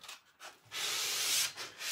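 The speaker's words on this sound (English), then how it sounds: "scuff sanding will ensure you the best possible finish for this particular paint" Furniture being scuff sanded by hand before painting: soft, close abrasive rubbing strokes, a couple of short passes followed by one longer sustained scrub.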